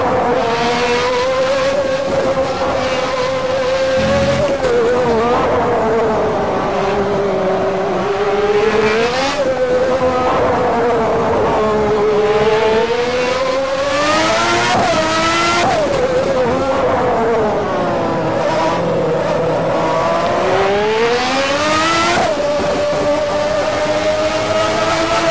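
A 1992 Formula One car's engine in a Stock Car Extreme video game mod, with a loud, continuous high-pitched metallic wail that rises and falls through repeated gear changes and revs, and no talk.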